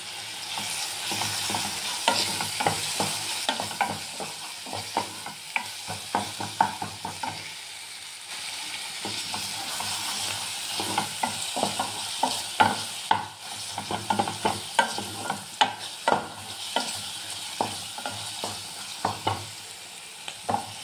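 Masala paste with chillies and ridge gourd frying in a pan as a spoon stirs it, a constant sizzle broken by frequent scraping knocks in bursts, close and fairly loud, no voices.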